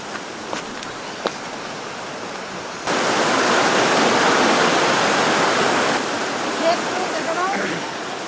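Steady rushing river water near a bridge, a broad hiss that swells louder midway and then eases slightly, with a few faint footsteps or knocks early on.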